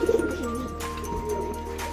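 A pigeon coos close by in a short, throaty burst, then a soft, low hum carries on beneath it.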